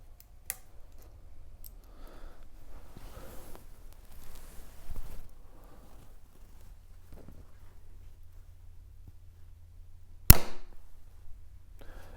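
A Hoyt Ventum 33 compound bow, a 2021 model, releases an arrow with one sharp, loud crack near the end, after a long stretch of quiet handling noise and faint rustles, with no talk.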